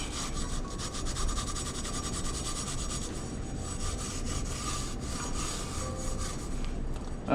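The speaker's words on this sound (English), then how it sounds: "Now I'm going to take a newer piece of Scotch-Brite, put some alcohol on it. Just kind of clean up our rotor a little bit." Abrasive Scotch-Brite pad wetted with alcohol scrubbing the front brake rotor of a 2016 Honda CRF230F dirt bike, a steady close rasping rub that continues for several seconds without pause and with no talk over it.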